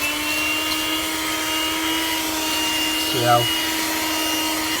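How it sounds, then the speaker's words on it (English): A handheld car vacuum cleaner sucking up dirt, a steady close motor whine with a high pitched tone running throughout, and a brief rattling pull of debris midway; a voice speaks briefly over it. "I've been using mine, so you can easily vacuum the dirt."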